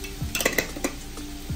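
Bottle gourd stir-fry with turmeric is stirred in a pan. A spatula scrapes and knocks against the metal in a few quick strokes over a faint sizzle, close by.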